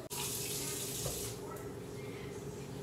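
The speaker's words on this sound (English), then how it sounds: "add water" Water runs from a tap into a crockpot holding turkey wings, a steady close gushing pour that eases slightly partway through, with no talking.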